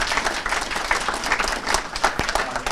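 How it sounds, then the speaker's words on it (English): Lively audience applause for a conference moderator at a Moore's Law closing session, many hands clapping close and loud with slight surges in intensity, no speech over it. "Let's all applaud Paul Weissberger."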